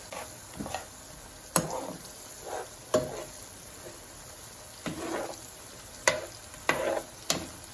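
Thinly sliced vegetables sautéing in a pan for pasta, with a quiet sizzle broken by a handful of sharp scrapes and stirring strokes at irregular intervals.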